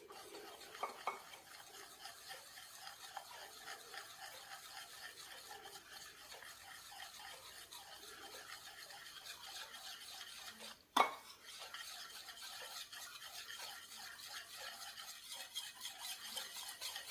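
Sunflower oil being stirred into a wheat carrot cake batter in a bowl, a quiet steady scraping and whisking with one sharp clink of utensil against the bowl partway through.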